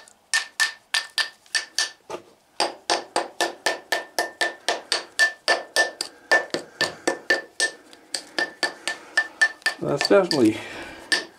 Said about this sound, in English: listen to the rock. This, you can hear how that's loose a little bit.